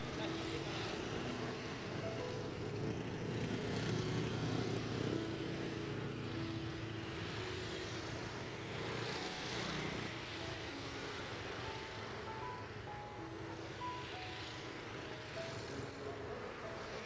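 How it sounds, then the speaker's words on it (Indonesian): A steady broad engine drone rumbles throughout, like an airplane flying away from an airport at a distance, continuous and fairly even without clear fading. "Suara pesawat semakin jauh."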